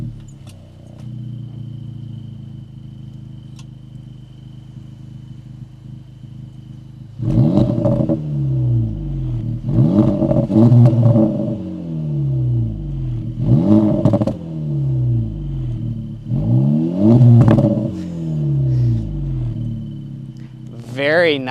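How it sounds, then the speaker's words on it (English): Active exhaust on an Acura Integra Type S rising in repeated revs, several throaty bursts close by after a quiet idle, each climbing then falling, with crackles between pulls. "Acura has done a lot with the exhaust system for this Integra Type S. It's an active exhaust system"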